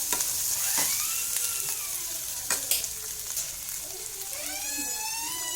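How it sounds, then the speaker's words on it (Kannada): Sliced onions frying lightly in a pan for curd rice, a steady bright sizzle with stirring scrapes and small pops and crackles, close and continuous. "ಸ್ವಲ್ಪ ಲೈಟಾಗಿ ಆನಿಯನ್ ಕುಕ್ ಆದರೆ ಸಾಕಾಗುತ್ತೆ"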